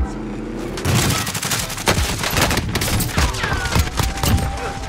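Rapid bursts of Gallo SA12 semi-automatic shotgun fire in the video game Warzone, loud and close, shots overlapping in a dense, continuous fusillade with no talk.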